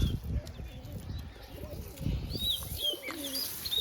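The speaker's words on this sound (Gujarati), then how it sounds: "જુઓ બધા કબૂતર ઉપર જાય છે બેઠા" Soft pigeon coos repeat at a moderate distance, mixed with a few brighter bird chirps over a quiet outdoor background.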